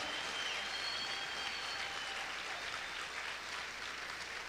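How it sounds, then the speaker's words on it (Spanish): Church congregation applauding, a steady wash of many hands clapping together, moderately distant and continuous for a few seconds without talk. "Vamos a aplaudir fuerte al Señor."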